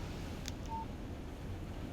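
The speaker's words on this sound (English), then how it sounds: "Text message from Barry." A mobile phone text message alert chimes once in the video game Alan Wake, a short bright electronic tone heard alone over a low steady background hum.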